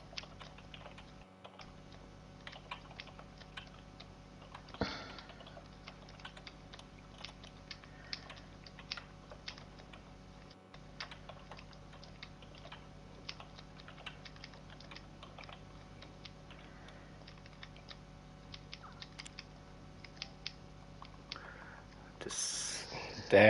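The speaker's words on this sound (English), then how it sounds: "keyboard is always messing up with my typing" Soft, quick clicking of typing on an American computer keyboard runs steadily for the whole stretch, quiet and close, with a few louder key strikes near the end.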